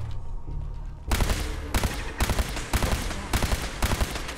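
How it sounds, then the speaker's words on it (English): Automated turret opening fire inside a post-apocalyptic facility, with loud rapid bursts of gunshots arriving in short clustered volleys after a brief quieter lead-in, close and punchy. "that sounds like another turret"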